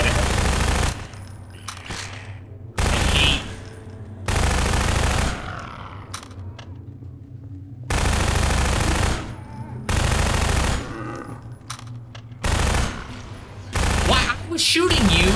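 Rapid automatic gunfire from the video game Half-Life 2 Episode 2 comes in loud, repeated bursts separated by short pauses, with heavy echoing blasts and debris throughout.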